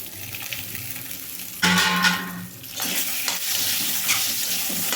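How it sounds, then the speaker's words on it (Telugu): Small onions drop into hot oil in a pan for a stuffed brinjal fry, bursting into a sudden loud sizzle that settles into steady frying with light stirring scrapes. "ఆ ఉల్లిపాయలను కూడా వేసేసుకోవాలి"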